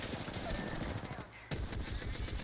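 Rapid, loud automatic gunfire in a shooter video game, dense bursts of shots that break for a split second and then resume.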